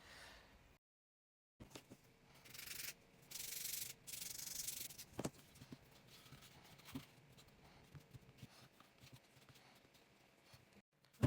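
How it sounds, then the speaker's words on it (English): Sandpaper rubs repeatedly along the sides of a handmade craft muzzle for a Nezuko costume, producing close, scratchy strokes in uneven bursts against a quiet room. "So I'm just gonna sand the sides just a little bit."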